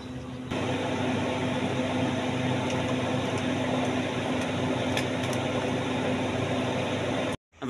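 An air cooler runs steadily for several seconds, a constant close whooshing hum of fan and airflow with a faint tonal drone, then cuts off abruptly at the end.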